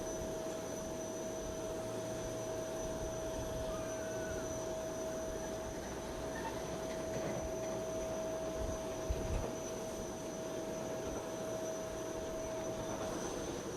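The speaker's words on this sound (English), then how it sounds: "this is definitely the regional jet" A regional jet at Fukuoka International Airport, heard as a steady, distant engine roar with a broad hiss and a faint sustained whine, holding even throughout with no speech.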